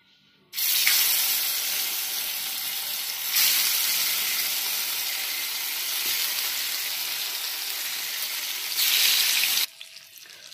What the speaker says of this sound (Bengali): এইভাবে একটু নুন লঙ্কা একটু মাখিয়ে গোলমরিচ দিয়ে ভেজে নিয়ে করবেন